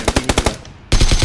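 Rapid automatic gunfire in the military shooter game Squad, a burst of sharp close shots followed by a brief lull and another dense burst, loud and alone.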